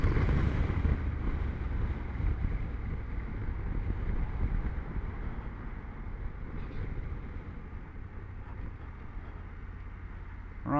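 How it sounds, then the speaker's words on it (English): Wind buffets the helmet while riding a 2020 BMW F750 GS motorcycle, a constant low roaring rush that stays steady and fairly close throughout, with no speech. "The buffeting is really bad."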